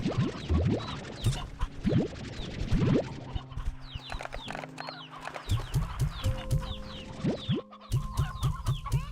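Chickens cluck in short, scattered bursts with a faint rooster-like call, mixed with sharp scratching and tapping noises, moderately close and steady throughout.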